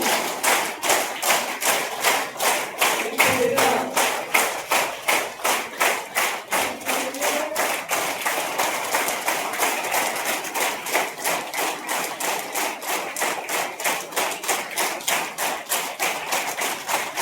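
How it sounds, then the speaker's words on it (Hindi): Rhythmic, energetic applause from an indoor audience at a motivational seminar, with hands raised and clapping hard in a fast, even beat that holds steady for a long stretch, loud and close. "एक बार दो हाथ ऊपर उठाएं और जोरदार तालियां।"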